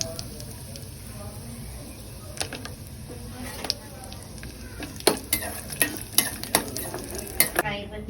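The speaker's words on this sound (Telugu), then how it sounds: "గిన్నెలో నెయ్యి వేసుకుని డ్రై ఫ్రూట్స్ వేయించుకున్నాను." Continuous sizzle of dry fruits (almonds, cashews, raisins) frying in hot ghee, with a run of sharp metallic clinks and scrapes of a spoon against a pan toward the end.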